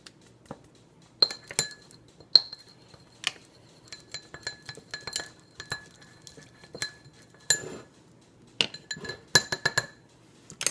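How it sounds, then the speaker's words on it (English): Stirring pigment into a homemade lip balm mixture in a glass container: irregular bright clinks and taps of a utensil against glass, some in quick clusters, close and clear over a quiet background. "And now I'm going to stir while I put the pigment in"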